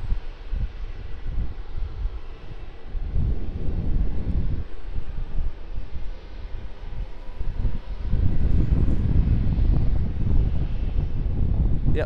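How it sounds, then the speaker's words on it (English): Aircraft engines at Sydney Airport: a broad, low roar building over several seconds with wind buffeting the microphone, heard from a distance, growing louder toward the end. "Two aircraft off in the distance for 16 right there."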